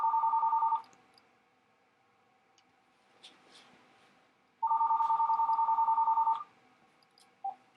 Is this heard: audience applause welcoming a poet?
no